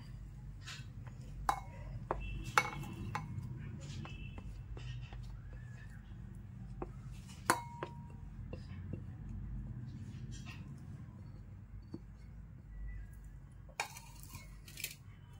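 Soft, quiet clinks and scrapes of a spoon transferring wood apple chutney ingredients into a bowl, scattered irregularly over a low background hum.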